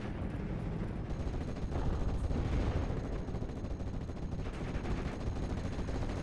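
Rattling machine-gun fire rolls on without pause in the World War II strategy game Steel Division 44, its dense bursts layered over distant artillery booms in a thick, constant battlefield din.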